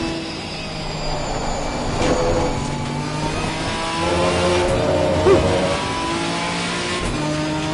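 A race car at Kyalami in Assetto Corsa Competizione drones steadily close up, its engine note stepping down through a downshift under light braking, then climbing again as power returns, with no voices.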